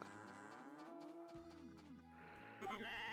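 Farm animals calling in the Story of Seasons: A Wonderful Life video game, with drawn-out synthetic bleats and moo-like tones over a steady background music bed that brightens near the end.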